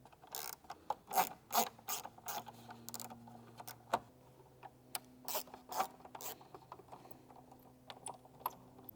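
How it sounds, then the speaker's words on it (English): Two Phillips head screws are backed out of a 4th-generation Toyota Tacoma side mirror, giving soft ratcheting clicks and scattered metallic ticks with a faint low hum beneath, quiet and close. "you want to start by taking 2 screws out, 2 Phillips head screws"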